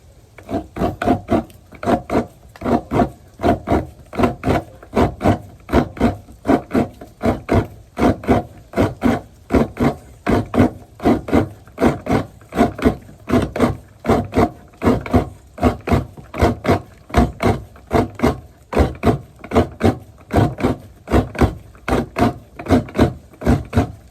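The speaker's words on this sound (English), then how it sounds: "So people already scrape the coconut here for the fish cabbage." Coconut being scraped by hand for a Fijian fish vakalolo curry, a steady rhythmic rasping of roughly two strokes per second, close and loud, continuing without pause and with no talking.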